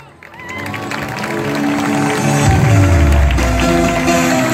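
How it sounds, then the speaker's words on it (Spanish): Audience applause and crowd noise swell and hold steady for a contestant at the Miss Candelaria pageant during the patron saint anniversary festivities in Candelaria, Misiones, with loud music and background commotion underneath. "Fuerte aplauso para"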